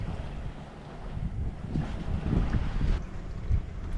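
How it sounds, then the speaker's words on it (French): Wind gusts rumble and buffet past a sailboat under sail off the island of Elba, with a low, continuous roar and no talk. "Allez le vent, emmène-nous le plus loin possible."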